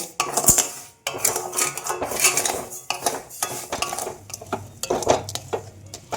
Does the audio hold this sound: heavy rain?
no